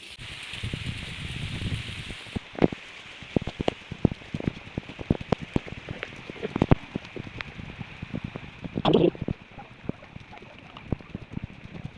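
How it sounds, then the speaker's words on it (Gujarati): Rain falls on a hill outdoors, a steady wash of patter with scattered sharp drops striking nearby surfaces close to the microphone, plus some rustling, with no voices. "વરસાદ ઉતરતો"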